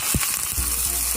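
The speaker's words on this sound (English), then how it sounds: "You want to hear that sizzle." Food sizzles loudly in a hot oiled pan, a dense steady hiss with a sharp burst at the start as it hits the oil.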